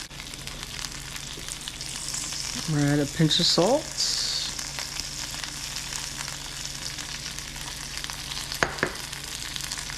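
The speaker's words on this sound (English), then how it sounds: "Let them sizzle." Chicken wings sizzle in a pan of canola oil over medium-high heat, a constant hissing fry running the whole time while a person talks briefly over it.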